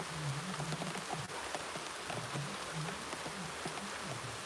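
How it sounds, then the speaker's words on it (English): Heavy rain pours down at a village gym, a dense steady hiss of drops striking surfaces throughout, with a faint low murmur underneath. "Rain is coming down harder, chat."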